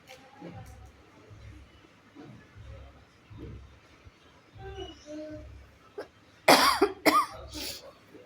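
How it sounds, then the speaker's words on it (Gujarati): A grandmother coughs in a rough burst of two or three loud coughs near the end, following quieter faint throat sounds and soft background voices. "વ્યુ દાદીને ખાંસી આવી."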